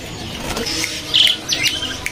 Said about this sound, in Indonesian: Oke, di kios ini ada burung pelatuk bawang.